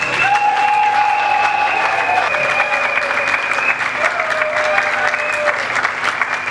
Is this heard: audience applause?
yes